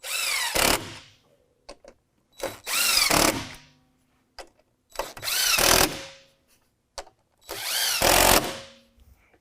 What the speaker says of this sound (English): Next, we'll reattach the 4 bolts up top using the 10mm.